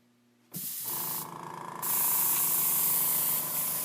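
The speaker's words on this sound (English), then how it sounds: "we're going to spray on the piece of paper towel and see how it goes" An airbrush loaded with tattoo paint sprays onto a piece of paper towel: a sudden steady hiss that pauses briefly, then resumes louder and continues, close and alone.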